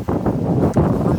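Outdoor wind rushes in brief gusty bursts of broadband roar, close and fairly loud, buffeting the microphone.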